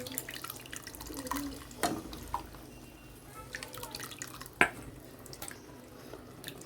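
Tamarind fish curry broth is poured into a pan, giving soft liquid trickling and dripping with a few sharper splashes and clinks at irregular moments, fairly quiet overall.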